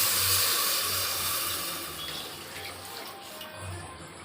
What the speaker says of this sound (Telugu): దాంట్లో వాటర్ పోయాలి.